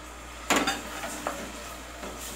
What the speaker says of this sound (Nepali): ये देख टमाटर डाल दिया मैंने